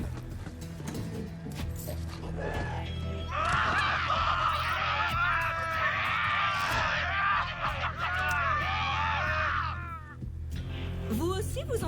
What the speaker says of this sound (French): Vous aussi, vous entendez des cris ou c'est moi qui fais encore une attaque?